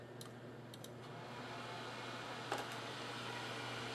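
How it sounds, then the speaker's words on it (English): A gaming computer's cooling fan running at full 100% speed, a steady loud whooshing hum with a constant low drone and a couple of faint clicks, no speech. "I'm kind of curious how loud the fan would be."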